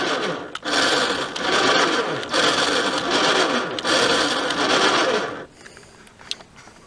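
A four-wheeler winch run from its switch buttons whirs in three steady motor bursts separated by short pauses, then cuts off, leaving faint clicks and handling noise.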